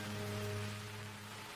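Soft, steady rain patters in the background, a faint continuous hiss with a low hum running beneath it and no voices.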